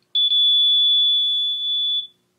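A water leak detector's alarm shrieks as one loud, piercing continuous tone lasting about two seconds, starting with a couple of quick stutters and then cutting off.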